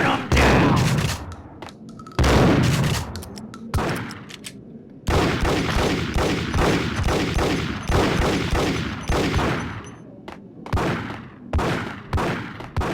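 Rapid bursts of video game gunfire, loud and close, with heavy volleys in the opening seconds followed by steady rattling automatic fire.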